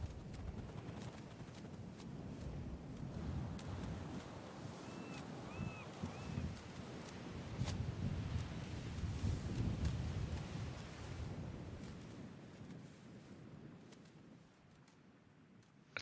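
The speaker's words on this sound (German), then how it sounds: "Jetzt hört der Wind auf zu pfeifen." Wind whistles and rushes steadily past while gliding through the air in the survival game Sons of the Forest, a broad airy roar with a faint high whistle rising briefly midway, then easing off toward the end.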